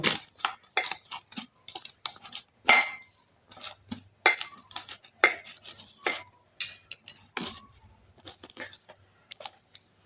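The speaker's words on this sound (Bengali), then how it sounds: "তেলটা দিয়ে হাতে করে ভালো করে মাখিয়ে নেব" Hands knead paratha dough with refined oil and salt in a bowl, making a series of close, irregular sticky slaps and clicks with short gaps between them.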